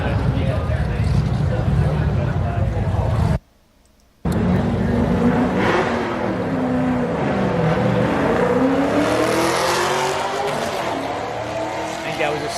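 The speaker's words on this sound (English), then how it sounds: "I think that was a stick shift car there" A manual-transmission car drives past at the LS Fest East 2025 hot rod event, a loud engine note rising and falling as it passes, over steady outdoor rumble and background voices, with a brief cut to silence early on.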